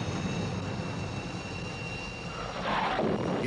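Israeli Air Force military jets on an attack run produce a steady, distant roar, with a broad rushing swell building toward the end.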